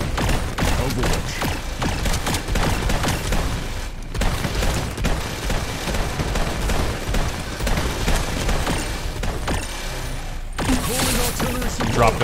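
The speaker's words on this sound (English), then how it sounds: "Calling artillery support. Artillery behind us." Artillery support strike in the video game Red Solstice 2, heard as a dense, continuous barrage of booming blasts and gunfire that stays loud throughout, with a brief lull before rumbling on.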